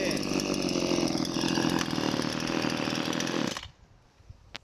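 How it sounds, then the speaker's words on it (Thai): A small, low-cost household chainsaw runs steadily at high, buzzing revs for several seconds, then cuts off abruptly, leaving quiet background with a faint knock. "เราจะมาโชว์ ตัดให้ดูนะครับว่า เลื่อยเข้าไหมคมขนาดไหน"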